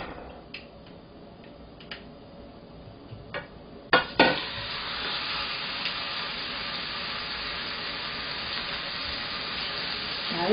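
Beef for Japanese-style soy-glazed beef hits a hot pan over high heat: a few clinks and a thud, then a loud, steady sizzle that carries on close and unbroken.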